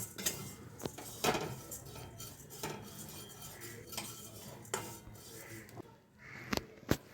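Flattened rice (chira) dry-roasts in an empty wok while a utensil stirs it, making continuous soft rustling and scraping with repeated sharp metallic clinks against the pan, close and steady without speech.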